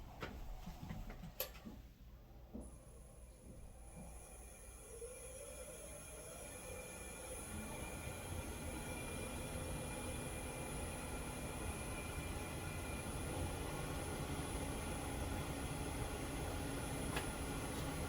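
A wood lathe spins a maple live-edge hollow form at about 600 RPM, a steady droning rumble that builds and settles into a continuous hum with a slight rhythmic vibration, close and fairly loud throughout.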